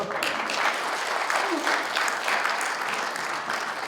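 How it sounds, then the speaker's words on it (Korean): A lecture audience at a forum applauds in honor of a professor, producing a full, continuous patter of many hands clapping at moderate volume from across the hall. "박수 한번 쳐주세요."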